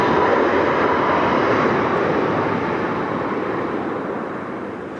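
Jet aircraft engines roar loudly at PDX airport in Portland, Oregon, a continuous broadband blast close by that fades only slightly across the clip, with no other sounds over it.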